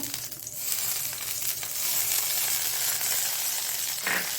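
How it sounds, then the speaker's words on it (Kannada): Mustard seeds dropped into a spoonful of hot coconut oil sizzle and crackle steadily, a bright hissing fry that swells after the first second and holds close and loud. "ಎಣ್ಣೆ ಬಿಸಿಯಾಗಿದೆ ನೋಡಿ. ಸಾಸಿವೆ ಹಾಕ್ಕೊಳ್ತಿದ್ದೇನೆ."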